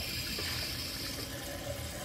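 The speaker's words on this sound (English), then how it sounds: "That's the normal tap water, as you can see it's running." Tap water running from a kitchen faucet, a steady, even rush of water pouring continuously at close range.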